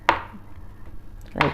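Two sharp knife chops through garlic cloves on a cutting board, one at the start and one near the end, close and crisp with quiet room tone between.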